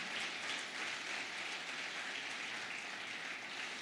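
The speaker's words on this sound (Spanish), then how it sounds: "Denle un aplauso al Señor, denle un aplauso al Señor" A church congregation applauds the Lord in a continuous, even patter of many hands, steady and moderately distant, with no voices rising above it.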